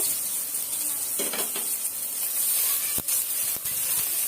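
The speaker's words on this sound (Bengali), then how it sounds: "এখন পেঁয়াজ আর কাঁচামরিচটা দিয়ে একটু ভাজা ভাজা করে নেব" Onion and green chili frying in oil in a wok, a continuous bright sizzling hiss with a few sharp clinks of a utensil against the pan, close and steady.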